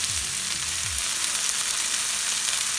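Spinach-stuffed chicken breasts browning in a frying pan, giving a loud, even, close sizzle that holds steady throughout, with no talking.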